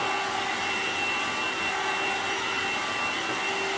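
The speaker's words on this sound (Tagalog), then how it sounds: "Habang nagpaplanta siya, binablower siya ang kanyang hair." Hair dryer blowing steadily on a woman's hair, a loud, continuous whooshing roar with a faint motor whine, unbroken throughout and heard alone.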